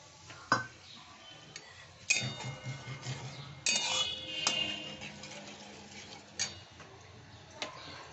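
Doi potol, a yogurt and pointed-gourd curry, being stirred in a pan with a utensil: quiet scattered scrapes and clinks of metal against the pan, with occasional sharper taps, no talking.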